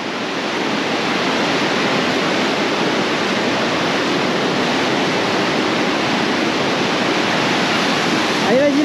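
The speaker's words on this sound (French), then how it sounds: "Là on traverse une rivière. On a de l'eau jusqu'aux genoux." A river rushes in a loud, continuous wash of flowing water around people wading across knee-deep in the cold current in Cappadocia, Turkey, steady throughout with a brief voice near the end.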